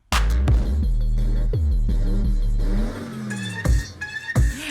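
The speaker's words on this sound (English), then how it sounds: "It isn't, just random car engines revving." Car engine revving samples, cut rhythmically into a K-pop beat: loud, close, choppy bursts of engine roar that start and stop abruptly, followed by quieter revs and whines in quick succession.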